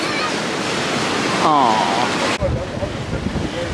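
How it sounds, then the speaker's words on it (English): Rough ocean surf along the beach at Naples, Florida, with strong wind blasting the microphone in a constant loud wash, while a voice speaks briefly over it. "There's the crazy ocean behind us."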